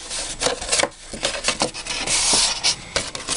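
Scored card (12 by 12 sheet) being folded and creased along its score lines for a self-closing box, producing close, repeated rubbing and scraping strokes with brief crisp swipes.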